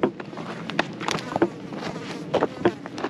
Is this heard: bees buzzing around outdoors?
yes